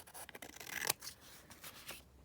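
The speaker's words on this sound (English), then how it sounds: "just snip it across here" Scissors snip across a folded book-page pocket for a junk journal, with a short run of crisp rasping cuts and one sharper slice in the middle, quiet and close with no talking.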